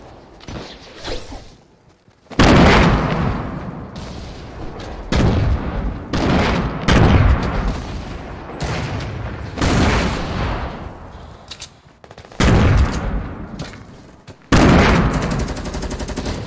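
Rocket explosions and gunfire from a Fortnite Battle Royale match, coming as loud repeated blasts with sharp onsets separated by short gaps, over a constant rumble of battle.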